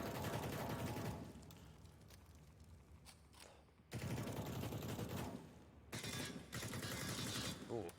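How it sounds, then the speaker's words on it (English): Bursts of gunfire in Counter-Strike on the Nuke map during a pro match round, sustained rapid shots with brief pauses, loud and dense, with a caster's voice talking over parts of it. "Ooh, shots just coming everywhere."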